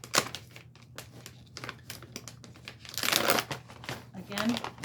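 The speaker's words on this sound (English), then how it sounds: "We're going to open that up. So it also looks like a resealable bag." Resealable cellophane seed bag being opened up close, crinkling and rustling in short bursts with a louder crackle near the end, a voice talking over it.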